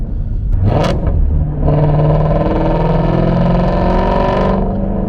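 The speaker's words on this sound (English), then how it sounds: "let's go and throw it into sport, and yeah, let's see how fast this car feels." A Shelby GT350 Mustang in sport mode accelerates hard, its engine note swelling into a loud, close, sustained roar that climbs steadily for about three seconds, then drops away. No one speaks.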